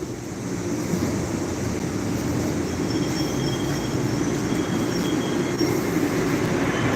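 A passing train gives a loud, steady rumble and rattle of wheels on rails lasting throughout, with faint high squeals of the wheels in the middle.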